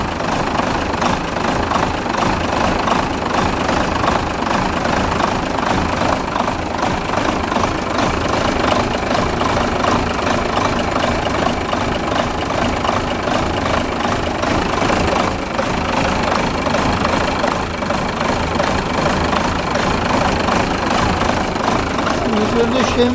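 Renault Major tractor engine running steadily at idle revs, a continuous close, loud mechanical drone with faint knocking throughout, a voice talking over it.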